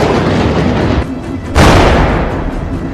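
Explosive line charges fired by an anti-mine rocket system detonate in a powerful, rumbling blast, a sustained roar that dips briefly before a second loud boom bursts in and rolls on.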